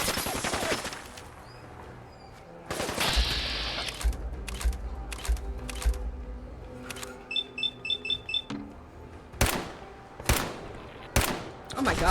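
Combat in the post-apocalyptic game Fallout 4 against ghouls, with bursts of gunfire, several sharp separate shots, a longer rumbling volley and some electronic beeps, all fairly quiet and spread over about twelve seconds.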